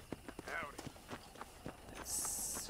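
Hooves of a horse in the Red Dead Redemption video game clop in a steady, even gallop, soft and quite distant, under someone talking throughout.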